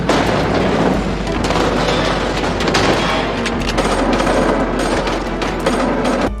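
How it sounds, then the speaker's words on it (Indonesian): Dense bursts of gunfire in a Korean action film crack and boom continuously, loud and chaotic, with heavy rumbling underneath and no talking. "suara tembakan pun terdengar dari luar ruangan"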